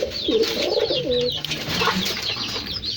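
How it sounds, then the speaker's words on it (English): Pigeons on a pigeon farm cooing in soft, rolling, repeated calls close to the listener, several birds overlapping with light chirps between them. "this is my pigeons"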